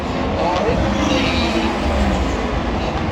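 A Ford race car at the Daytona 24 Hours pulls in close by during pit activity, its engine a steady, loud roar that fills the whole stretch under ongoing commentary and crowd noise.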